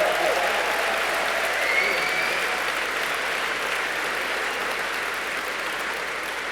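Sustained applause from a large dinner audience at an Elton John AIDS Foundation benefit in New York, a dense steady wash of clapping that holds for several seconds and eases slightly toward the end, with a few faint voices mixed in.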